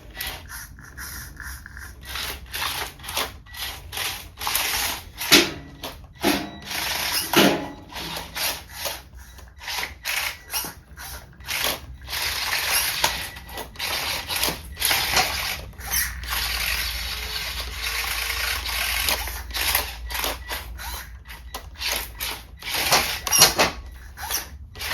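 A one-pound combat robot lifter works against an old chassis, a tennis ball and a one-pound weight, giving repeated close scraping, rubbing and clunking bursts in an uneven rhythm with no talk.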